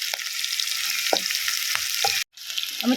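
Curry leaves hit hot oil for a Kerala mango mappas, giving a steady, close sizzle and crackle. A few sharper pops come through before it cuts out briefly near the end and then resumes.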